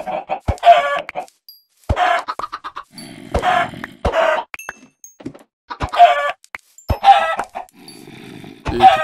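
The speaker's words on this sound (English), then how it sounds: "Now I'm actually gonna go back in and kill all the rest of the chickens in the house." Chickens in the Minecraft video game cluck repeatedly in short bursts, several birds close by with irregular gaps, punctuated by sharp thunks of hits, no voices.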